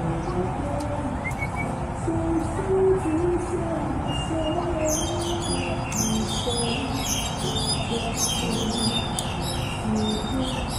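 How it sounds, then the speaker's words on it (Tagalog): Several birds call repeatedly in the distance, high chirps and trills clustering in the second half over a steady outdoor background hum. "Marami kasi ibon dito."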